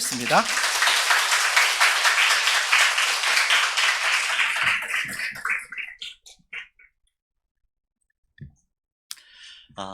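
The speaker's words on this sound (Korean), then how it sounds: "우리 목사님을 박수로 환영하겠습니다" A church congregation at a Sunday worship service applauds to welcome the pastor: loud, dense clapping that holds for several seconds, then thins out and dies away, followed by near silence and a few faint sounds.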